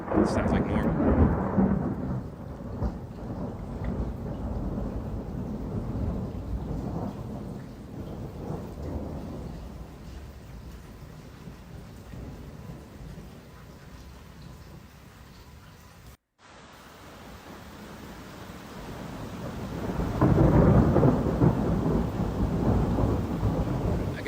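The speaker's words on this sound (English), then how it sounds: "we've heard thunder before" Thunderstorm with low rumbling thunder rolling in the distance over steady rain, swelling at the start and again near the end, with no voices.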